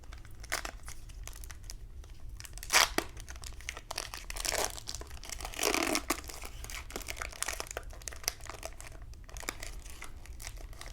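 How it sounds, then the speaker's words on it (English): Foil Pokémon Prismatic Evolutions card packs being torn open, with soft crinkling and tearing throughout and a few louder rips in bursts, close and quiet, with no talking. "let's rip into some packs"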